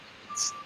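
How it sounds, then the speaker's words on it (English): A single short electronic reversing beep from a truck backing up outside a house under renovation, faint and distant through an open window. "There's a truck backing outside."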